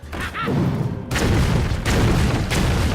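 Booming explosion effects from the Mad Bomber card in the Hearthstone video game, a run of loud, dense blasts and thuds with no voice over them.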